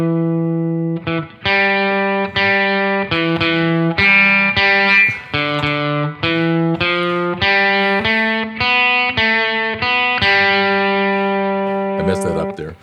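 Electric guitar with P-90 or P.A.F. pickups played through a distortion effect, a loud, sustained run of harmonically rich, gritty notes and chords changing steadily over about twelve seconds, with brief gaps between phrases.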